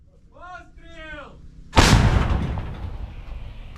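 A loud artillery cannon blast near Pokrovsk, Ukraine, erupts after a brief shout of "Cannon!" in Ukrainian, followed by a long rumbling decay and echo.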